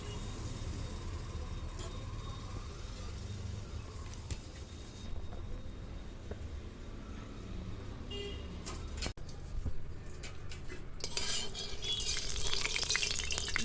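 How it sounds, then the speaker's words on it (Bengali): Mustard oil heating in a hot kadai for shukto, a quiet continuous hiss and low rumble that grows into crackling sizzle toward the end, with no one talking. "কড়াই গরম হয়ে গেছে, এখন আমি সরষের তেল দেবো।"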